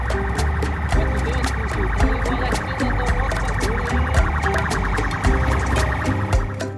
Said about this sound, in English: sirens blazing on every side of her